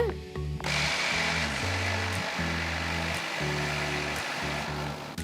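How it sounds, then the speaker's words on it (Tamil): A kitchen mixer grinder pulses tomatoes with garlic and rock salt for tomato dosa, a loud, close whirring roar that surges and dips in short stop-start bursts. "அடுத்து 1/2 டீஸ்பூன் கல்லுப்பு போட்டு ஃபர்ஸ்ட் கொஞ்சம் விட்டு விட்டு அரைங்க."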